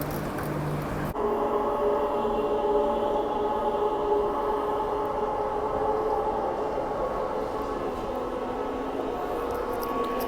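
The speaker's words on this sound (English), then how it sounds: "here's our train to Mandurah" An electric train to Mandurah in the underground Perth station, a steady loud rumble and hum of motors and wheels echoing in the enclosed platform, continuing without pause.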